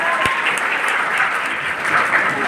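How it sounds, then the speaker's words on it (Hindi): Dense, steady applause from a large seated audience at a lively Hindi-language coaching session fills the room, a loud continuous wash of clapping throughout. "एक बार जोरदार तालियां अपने लिए"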